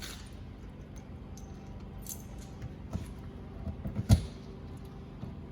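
A ring of master keys jangles at the storage compartment lock of a 2019 Keystone Springdale 252RL travel trailer, with faint metallic shuffling and a sharp clink near the end, close and fairly quiet.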